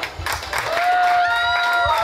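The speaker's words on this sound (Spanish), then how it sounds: "aplauso, por favor, para las bellas señoritas" Applause and crowd noise ring out at a town carnival festival in Uluazapa, greeting the young ladies, with steady clapping mixed with a sustained whistle-like tone that rises and holds through the second half.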